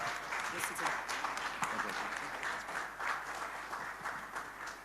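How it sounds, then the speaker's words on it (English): An audience at a foundation launch at a hotel applauds to welcome Dr. Nigel Chanakira, sustained dense clapping with cheering voices mixed in, steady and fairly loud throughout. "Let's give him a round of applause."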